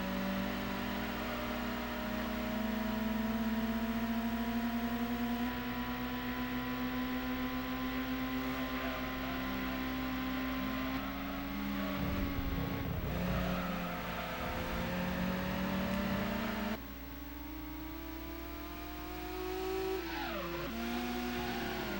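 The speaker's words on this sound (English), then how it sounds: "The other car just sounds like it's laboring." A racing car engine in the Gran Turismo 2 video game drones steadily with harmonic whine, pitch shifting as it accelerates and eases off, with a brief rough dip midway; no talking.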